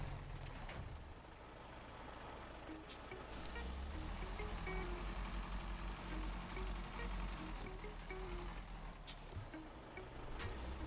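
In the game Snowrunner, a heavy truck pulling a trailer rumbles quietly while reversing, its repeated reversing beeps pulsing through a low engine drone with the odd air-brake hiss.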